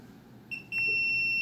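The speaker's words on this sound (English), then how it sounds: "Continuity kicked in and it won't stop beeping." A Fluke 325 clamp meter in continuity mode gives a short chirp, then a steady high electronic beep that holds on, close and clear.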